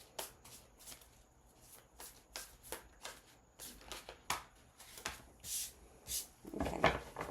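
Tarot cards handled and shuffled at close range: quiet, quick papery flicks and soft taps in an uneven series, ending with a louder rustle.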